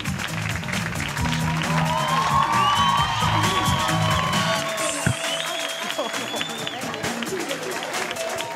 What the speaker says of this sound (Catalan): És el Niño en la Hipoteca, sisplau, fora aplaudiment per ell.